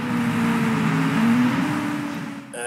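Formula 1 racing cars in a 2017 Motorsport Manager race, engines whining loudly at a steady high pitch as one car overtakes another, with the tone shifting near the end.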